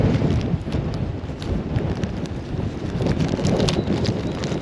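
Gusty wind blows across a microphone on a sea dike during a surfcasting fishing session, a steady low rumble and buffeting with brief crackles, no voices.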